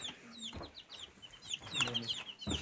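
Chicks in a chicken coop filled with sifted ash and soil give rapid, high peeping chirps, with a few lower clucks and scratching rustles close by.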